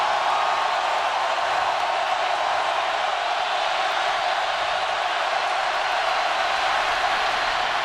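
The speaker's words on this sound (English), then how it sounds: "Now the crowd's into it." A football stadium crowd at an Arkansas at LSU college game roars in a steady, broad wash of cheering that holds evenly throughout, loud and distant with no single voices standing out.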